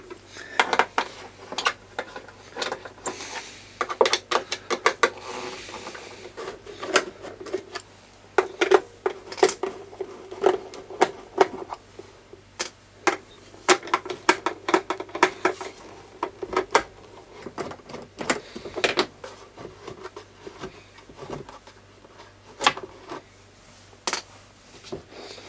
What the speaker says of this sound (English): we can go ahead and remove these 4 screws